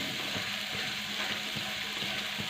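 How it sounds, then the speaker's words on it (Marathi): Tomato and grated coconut sautéing over medium gas in a pan for a bitter gourd dish, a steady close sizzle and crackle with faint stirring clicks, no voices. "खोबरा आपल्याला असंच छान प्रकारे मिडियम गॅसवरती परतून घ्यायचं आहे"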